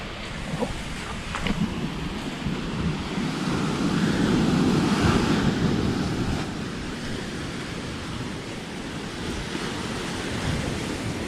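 Ocean waves roll and wash continuously onto an island shore, a broad steady surf roar that swells slightly in the middle, with some wind buffeting and no voices.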